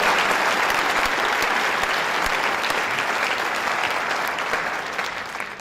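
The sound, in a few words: audience applause for the National Guard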